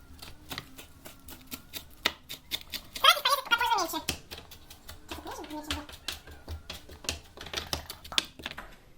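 A knife finely chopping a few mint leaves for a pork shashlik marinade, giving quick, irregular sharp taps on a cutting board with a brief louder scraping burst, close by and partly under faint background sounds.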